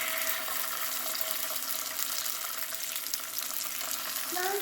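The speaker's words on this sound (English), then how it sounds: "Okay, so we're bubbling, we're sizzling." Oil sizzles and crackles steadily as a tortilla fries in a pan, a bright continuous frying hiss with small pops, close and fairly quiet, no talking.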